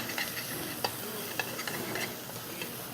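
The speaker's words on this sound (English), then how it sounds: "Let's simmer all together." Chopped vegetables and fresh thyme leaves simmering and lightly sizzling in a pan, a soft continuous bubbling hiss punctuated by scattered small ticks and pops, close by with no talk.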